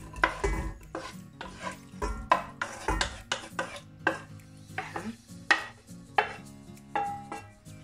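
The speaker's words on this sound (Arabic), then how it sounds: "دوكا فوتو باش نخلطوا الحشو تاعنا" Filling for a green cabbage tart being stirred in a bowl, with a steady run of loud, close scraping and clattering strokes that repeat irregularly throughout, with no talking.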